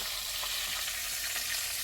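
Paprika chicken pieces sizzle and crackle steadily in a hot frying pan, a close, even hiss of frying with no voices.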